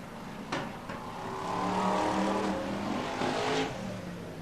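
BriSCA Formula 1 stock cars race at Skegness, engines swelling from a distance to a roaring pass and fading again, with a couple of sharp bursts early on and another near the end.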